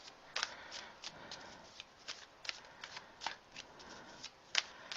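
A deck of cards is shuffled and handled up close, giving soft, irregular riffling flicks and crisp snaps that repeat quietly throughout.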